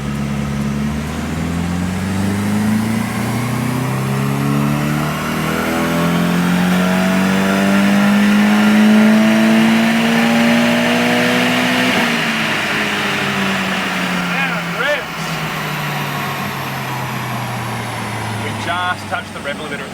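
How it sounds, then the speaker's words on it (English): A Nissan 180SX turbo engine held at full throttle on a dyno, its loud, steady roar climbing in pitch for about twelve seconds before easing off and settling. The engine fills the whole stretch. "we're going to spin it up again on the dyno with a target of 12 pounds of boost initially and see what kind of power figures we can achieve"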